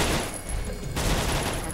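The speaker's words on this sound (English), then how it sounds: "So I'm gonna use gunshot" Gunshot skill of a Gunslinger in the online game Aion, a burst of rapid game gunfire that fills the whole moment, loud and close, with no talk over it.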